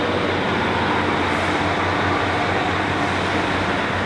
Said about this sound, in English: Bye! Goodbye, Northern Train!